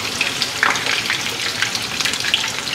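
Browning food fries in a pan with a close, steady crackling sizzle, punctuated by small scraping clicks as two spatulas turn the pieces over.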